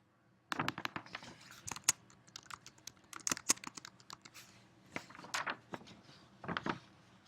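Fingers tap out a name on a computer keyboard, a run of quick, uneven keystroke clicks in bursts with short pauses, close and fairly clear over a quiet room.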